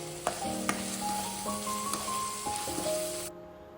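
Tomato frying and being stirred in a pan for a sprouted moong dal gravy gives a continuous close sizzle, with a few sharp clinks of the spoon against the pan before it cuts off abruptly.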